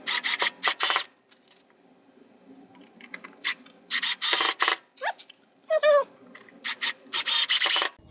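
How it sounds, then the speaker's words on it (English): A driver with a Phillips head bit runs 1 1/4 inch wood screws into wood in repeated short bursts of gritty grinding, each a second or less, with brief pauses and a squeaky rising whine between them. "I've got my Phillips head bit here and a box full of 1 1/4 inch wood screws. And we'll go ahead and punch these in."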